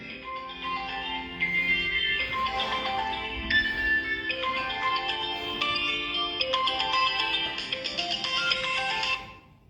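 A telephone ringtone plays loud and close before the call is answered, a bright, repeating melodic chime running continuously for nearly ten seconds and then cutting off abruptly, with no talking over it.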